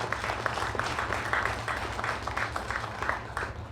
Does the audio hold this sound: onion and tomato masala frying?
no